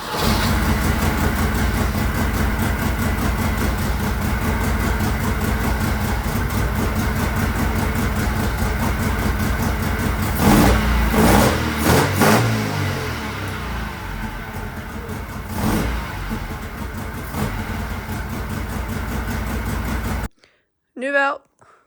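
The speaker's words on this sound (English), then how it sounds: "In gear, start the engine." Alfa Romeo Alfetta GTV engine cranking and catching, then idling steadily with several sharp revs partway through before a sudden cut to near silence, with a short voice at the end.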